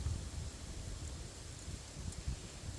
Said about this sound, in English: Wind picked up considerably.